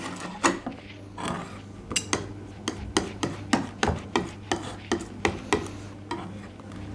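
Small amount of homemade wood putty, made of sanding dust, water-based glue and filler varnish, stirred in a container. It sounds like repeated short scraping and tapping strokes at a steady, fairly quick rhythm, close by, with no talk.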